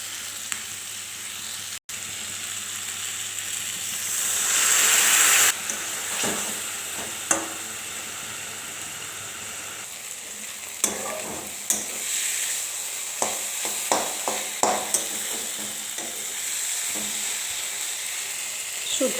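Onions fry in a pan with a constant close sizzle, a brief louder hiss of steam surging for a few seconds, then scattered sharp clicks and scrapes of a utensil stirring as the sizzling continues.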